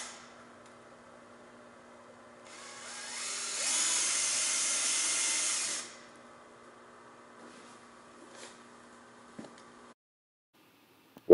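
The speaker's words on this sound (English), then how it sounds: "Drill pilot holes for 1-inch screws." A power drill bores pilot holes for one-inch screws while fitting a MiniLock handrail plate to a newel post, a single whining run of about three seconds standing out from a quiet room with a faint steady hum.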